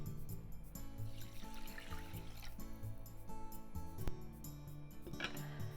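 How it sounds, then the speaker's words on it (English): Two cups of water poured onto two cups of rice in a pot for onigiri, a soft splashing trickle that swells in short bursts beneath a steady, low tonal background. "It's 2 cups of rice, so I'm adding 2 cups of water."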